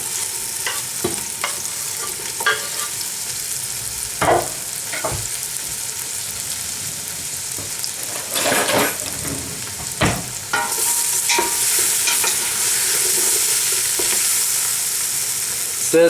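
Potatoes, leeks and spring onions are stirred in hot oil in a pan for leek and potato soup, giving a steady close sizzle broken by repeated scraping clatters of the spoon against the pan, with no talk.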